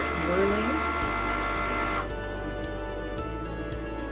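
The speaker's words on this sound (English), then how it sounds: "I'm simply going to click here on the Cricut sign, and the machine is going to start whirling" A Cricut cutting machine whirs steadily nearby while crafting a birthday card, a tonal motorized hum with rising and falling whines in the first half, then a lower drone broken by small regular clicks.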